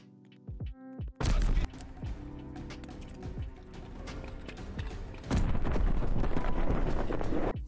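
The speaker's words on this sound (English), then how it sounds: "you're going to jolt forward and throw your nade" A grenade is thrown and explodes in Call of Duty: Vanguard on the Tuscan map in Search and Destroy. A few light clicks lead into a heavy blast, then a loud rumbling aftermath surges again near the end.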